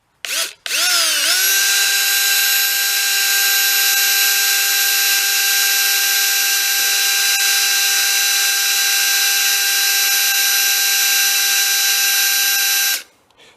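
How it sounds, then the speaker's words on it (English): Power drill with a failed variable-speed trigger, running only on or off, whines up to full speed with a loud, steady high-pitched motor tone for about twelve seconds, then cuts off abruptly. "I think the variable speed on my drill crapped out."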